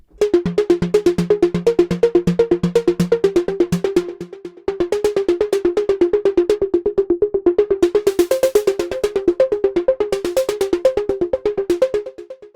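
A Diva synthesizer arpeggio preset for melodic techno and house plays rapid, evenly spaced plucked notes in a repeating pattern, with the bass line dropping away partway through and higher notes added later.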